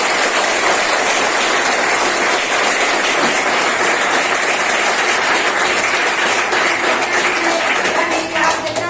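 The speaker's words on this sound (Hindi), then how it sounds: "जोरदार ताली होना चाहिए दोस्तों।" A crowd at a marketing event claps loudly and continuously for about nine seconds, a dense, even wash of applause that thins slightly at the very end.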